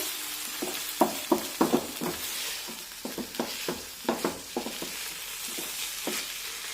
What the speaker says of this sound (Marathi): आता वेलदोडे पूड आणि जायफळ व्यवस्थित मिक्स करून घेऊया